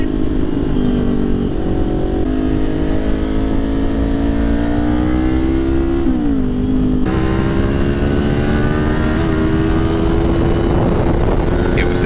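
A police car's loud engine drones steadily throughout, its pitch rising and dipping once midway, like a vehicle revving close by with no voices.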